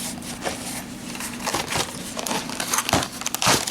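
Plastic wrapping on an anime DVD is cut open with scissors, giving close, irregular crinkling and crackling with sharp snips and rustles, steady and fairly quiet throughout.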